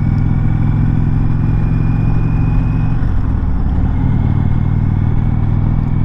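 A big, heavy 2019 Indian Chieftain Dark Horse motorcycle idles in a parking lot, its low engine rumble steady and loud throughout with a slight mechanical clatter on top.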